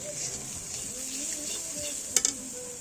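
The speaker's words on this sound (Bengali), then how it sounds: "এখানে মশলা হচ্ছে, মশলা হচ্ছে" Masala spices cooking in a pan at a street chaat stall, with steady close sizzling, stirring scrapes and a brief metallic clink near the end.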